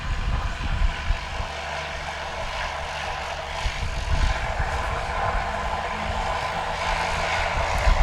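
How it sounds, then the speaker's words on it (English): Cessna 182 single-engine propeller plane on a STOL practice strip with the pilot opening the throttle, a steady loud engine drone and propeller roar holding throughout with slight swells, no talk. "You can hear him open the throttle"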